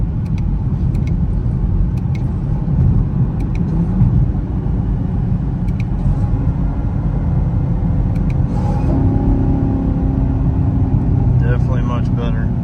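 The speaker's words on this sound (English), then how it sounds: "I guess it's just my exhaust too loud" A supercharged Chevrolet Camaro ZL1 with a cold air intake rumbles in snow and ice mode, its exhaust giving a steady low drone close by while a person talks over it.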